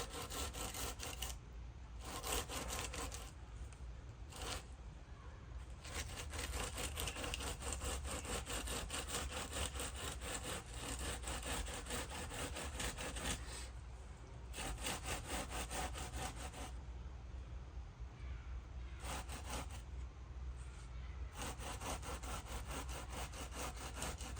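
A wooden board is dragged back and forth across a patio base to level it, producing rhythmic, rasping scraping strokes with brief pauses between passes, close and fairly quiet, with no speech.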